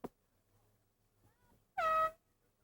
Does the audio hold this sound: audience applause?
no